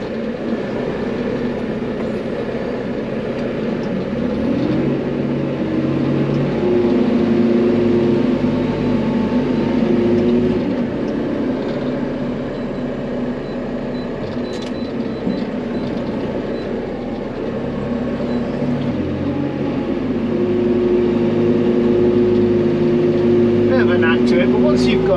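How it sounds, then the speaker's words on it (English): A farm tractor pulling a trailer with air brakes drives along the road, its engine a steady, loud drone throughout with some voices over it. "That tractor and trailer travels nice on the road."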